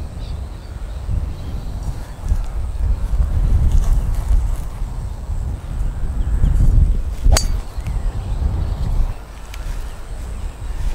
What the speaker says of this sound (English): Very windy here, guys.